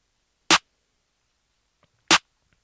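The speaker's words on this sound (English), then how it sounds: "Then we just have our basic clap pattern." Two sharp, bright electronic claps from a programmed FL Studio beat, spaced evenly about one and a half seconds apart, each short and alone against silence.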